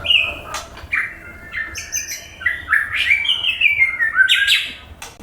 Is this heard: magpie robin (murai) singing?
yes